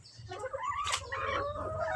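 Layer hens kept in a backyard cage give short clucks and a rising squawk close by, over a low steady background hum, with no talking.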